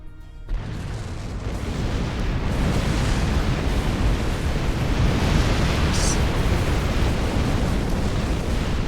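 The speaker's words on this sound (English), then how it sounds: "The charges on the surface are ready to detonate." Surface charges detonate in the Star Trek Online video game, unleashing a loud, sustained explosive roar that swells after a brief quiet start and rumbles on for several seconds without letup.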